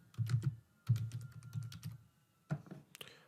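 Card details are typed on a computer keyboard for an online payment. Quick bursts of close, soft keystrokes come in two runs separated by a short pause, then a final few taps.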